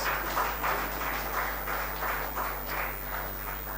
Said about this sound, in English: please put together your hands for a round of applause